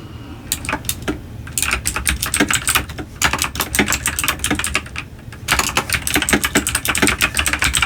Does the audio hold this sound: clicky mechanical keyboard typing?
yes